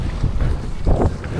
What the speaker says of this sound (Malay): Hari ni beralun teruk. Dah punya alun. Angin kuat dah.